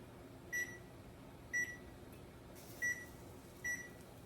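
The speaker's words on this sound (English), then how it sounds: "let me turn this timer on" A kitchen timer gives a series of short, bright electronic beeps four times at slightly uneven intervals over a quiet background hum.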